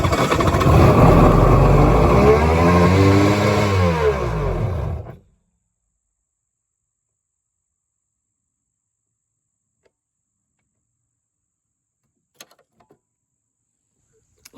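Jet ski engine cranked after sitting unused for a month or two, a loud rough whirring crank with wavering pitch lasting about five seconds, then abrupt silence with a few faint clicks.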